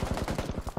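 A quick burst of about eight rapid gunshots fires in PUBG Battlegrounds, fairly close and evenly spaced, in under a second.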